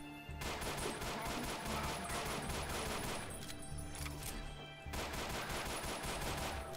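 Gunfire in the GZDoom mod Ashes 2063, a dense, continuous rapid-fire rattle of shots that is loud and sustained, with a brief lull partway through before the shooting resumes.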